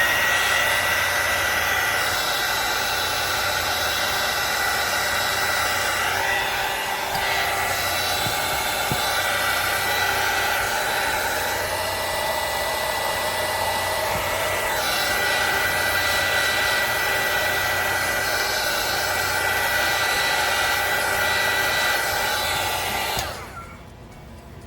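Hair dryer blowing steadily on a wooden craft project, a loud continuous whir with a bright, airy roar that holds for over twenty seconds before cutting off near the end, with no talk.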